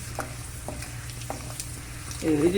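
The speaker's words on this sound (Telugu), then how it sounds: "ఆవాలు జర మంచిగా గోలాలి" Mustard seeds spluttering in hot oil for a rice tempering, a low steady sizzle broken by a few sharp pops, with louder stirring scrapes building near the end, close and fairly quiet.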